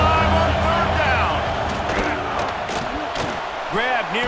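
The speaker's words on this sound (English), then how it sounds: "The Buckeye crowd alive on 3rd down" The Buckeye stadium crowd roars in a college football video game, a dense continuous cheer with whistles and shouts rising through it, while a commentator's voice talks over it.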